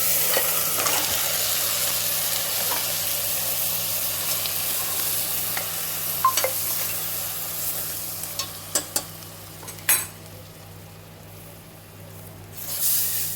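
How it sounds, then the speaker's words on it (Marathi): Crabs and ground masala paste go into a pan of reddened onions for Goan crab masala, giving a steady hiss and sizzle over a low hum, broken by scattered scraping stirs and clicks near the end. "कांदो बरो तांबडो जात येयलो म्हणटकूच भितर कुल्ल्यो आनी वांटप घालप।"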